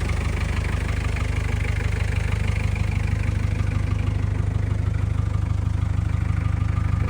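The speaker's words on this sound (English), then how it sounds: "So it sounds like old 19J Falcon diesel." A 1989 Land Rover Defender 90 with the 2.5L Falcon turbo diesel idles steadily up close, a loud, even low-pitched chug with a regular diesel clatter running throughout.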